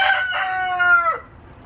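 A rooster crows in a chicken yard, one long drawn-out call that trails off, then brief soft clucking from the flock, close and clear with no talk.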